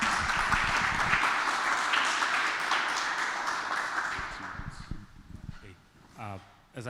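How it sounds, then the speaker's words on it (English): An audience at a tech talk claps steadily for several seconds, the applause thinning and fading out as a voice begins speaking near the end. "big round of applause."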